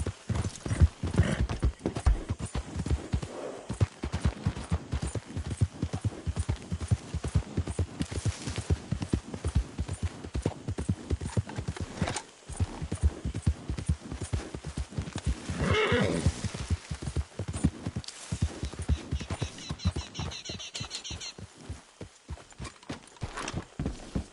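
Horse hooves clip-clop in a steady galloping rhythm while riding in the video game Red Dead Redemption 2, with a whinny partway through, loud and close throughout, no talk.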